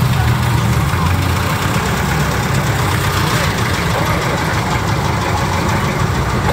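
Jeepney engines idle on a street in the Philippines, a loud, dense, continuous diesel rumble with no break.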